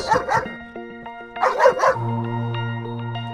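Dog barks played back as a test stimulus, a quick cluster of yips and bow-wows near the start, another burst of barking mid-clip, then a steady tonal hum underneath to the end.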